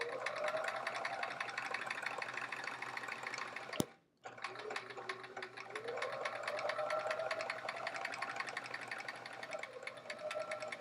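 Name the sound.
sewing machine sewing white borders onto a quilt block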